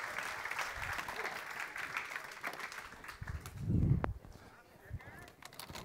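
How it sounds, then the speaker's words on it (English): A church congregation at a family Sunday service applauds, a soft, distant patter of many hands that swells to a louder peak partway through before easing back down. "Give them a bigger round of applause."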